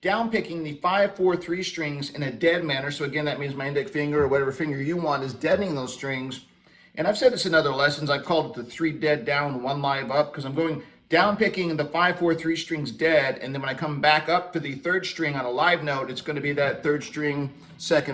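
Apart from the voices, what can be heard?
No distinct noise like a dog, phone or traffic.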